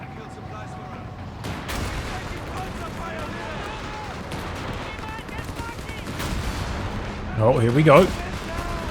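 StuG assault guns firing in the World War II strategy game Company of Heroes 3, a few booming shots amid continuous battle rumble and gunfire, with someone commentating over the top.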